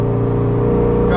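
Car engine pulling steadily through the upper gears on a highway after a coilover suspension conversion, a continuous near drone with a brief rising whine at the end as it revs, and someone talking over it.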